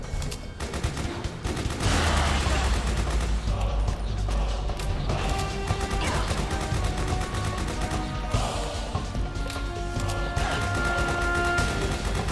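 Sustained gunfire and explosions in Metal Gear Solid 4, a loud, dense and continuous battle din with crashes and mechanical clatter and no talking.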